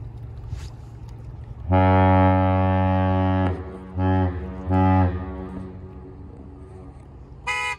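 The freighter Joseph L. Block sounds its horn salute at night: a long, loud, deep blast followed by two shorter blasts, ringing out over water with quiet ambience between.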